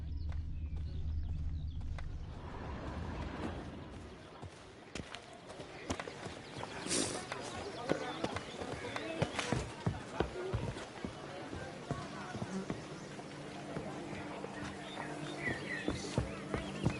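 Roach the horse runs in The Witcher 3: Blood and Wine, with a steady rhythm of clip-clopping hoofbeats that grows more distinct and fairly close after a quiet, rumbling start.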